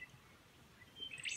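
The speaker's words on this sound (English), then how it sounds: "It's beautiful with the twittering of the birds." Birds twitter faintly at a quiet outdoor lunch stop in the countryside near Warialda, with a few soft, high chirps rising toward the end over a low background hush.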